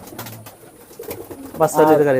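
Soft pigeon coos repeat under a person talking in a pigeon keeper's loft, swelling louder toward the end.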